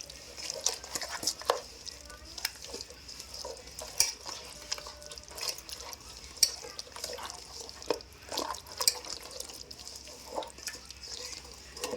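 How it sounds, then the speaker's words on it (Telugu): Mutton biryani ingredients mixed by hand or spoon in a pot, with soft, wet, irregular squelching and clinks repeating throughout, fairly quiet and close, and brief voices in the background. "ఇదంతా బాగా కలపాలండి. బాగా మిక్స్ చేసుకోవాలి."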